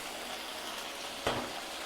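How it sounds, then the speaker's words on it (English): Honey garlic shrimp and sausage frying in a pan, a steady close sizzle throughout with one brief louder crackle as something hits the hot oil. "Let it get that sizzle on it."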